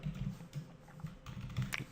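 Typing on a computer keyboard while writing JavaScript code, a short burst of soft, quick key taps in an uneven rhythm, heard close and quiet.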